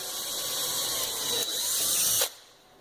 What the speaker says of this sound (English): we're going to need our drill with a 7/64 drill bit again